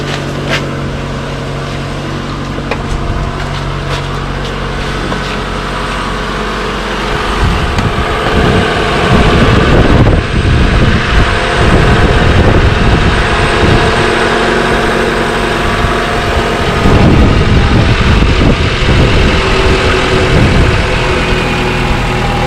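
A 2010 Toyota RAV4 engine running close by after an alternator replacement, a loud steady idle hum that swells into rougher, heavier revving rumbles partway through, with no talking.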